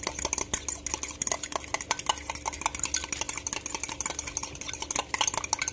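Eggs whisked in a bowl for pancakes, a fast irregular clatter of utensil against the dish with wet stirring in between, close up and continuous with no talking.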